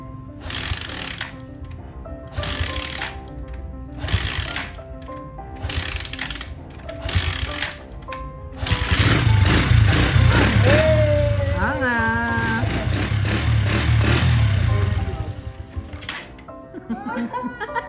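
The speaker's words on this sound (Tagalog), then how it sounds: "napatakbo natin yung motor na hindi nag-i-start nung una" An old motorcycle engine that would not start at first and is out of tune: a run of rhythmic mechanical cranking bursts, then the engine catches and runs loudly and roughly for several seconds before dropping back.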